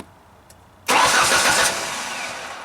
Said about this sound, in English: key on, crank the engine over